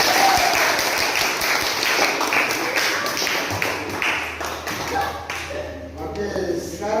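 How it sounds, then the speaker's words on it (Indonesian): Classroom applause for a student presenter in a geography lesson: a burst of many hands clapping that thins and fades over several seconds, with voices mixed in. "berikan aplaus untuk Patur"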